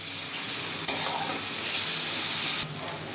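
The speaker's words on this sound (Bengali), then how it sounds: "টমেটোটা দেওয়ার পর ভালো করে কষিয়ে নিতে হবে" Pureed tomato with spices sizzling and frying in a pan for a Bengali jackfruit and prawn curry, a constant hiss broken by a few scraping stirs of a spoon.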